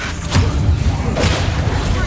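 The Confringo spell from the video game Hogwarts Legacy goes off in a pair of booming blasts with crackling debris, loud and close, as a voice speaks faintly underneath.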